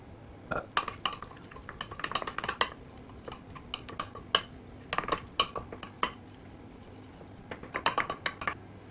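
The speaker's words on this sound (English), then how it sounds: "you mix in the flour with the butter" Flour being stirred into melted butter in a pan over low heat, with a spoon scraping and clinking against the pan in irregular clusters of sharp strokes separated by short pauses, close and moderately loud.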